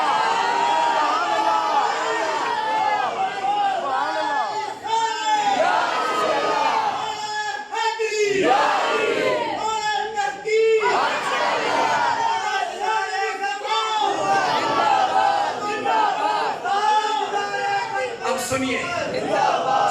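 Worshippers at a religious gathering in a mosque chant slogans in unison, many loud voices rising and falling in repeated calls that continue without a break for the whole stretch.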